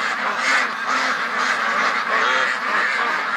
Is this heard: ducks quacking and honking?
yes